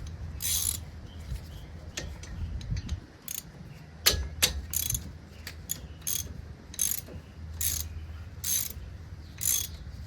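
Socket ratchet loosening a 1/2 inch brake caliper bolt on a RAM Laramie, with repeated bursts of rapid pawl clicking up close at a steady working rhythm, no voices.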